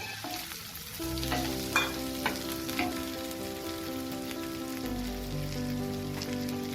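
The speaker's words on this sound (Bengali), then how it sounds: "এবার এতে আমি ভেজে রাখা আলুগুলোকে দিয়ে দেবো" Fried potatoes stirred into sizzling spice paste for a fish curry, a constant frying crackle under a steady hum, with a few light stirring taps.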